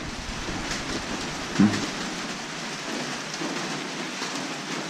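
Evening rain pours down in a constant, even hiss, with one brief low thump partway through and no talking.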